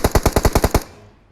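Rapid automatic gunfire in the PUBG Mobile video game: a loud, close burst of about eight evenly spaced shots, then a brief fading tail.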